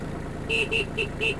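A Kubota A-195 Japanese mini tractor's horn sounds four short, bright beeps in a quick even rhythm, close and clear over a low background rumble.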